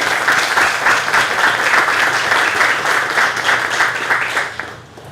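Steady audience applause rolls through a room at a community college event, full and even for several seconds before tapering off.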